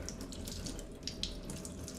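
Cold tap water running steadily into a sink while salt is rinsed off salmon, a continuous close splashing stream with small spattering bursts and no talk.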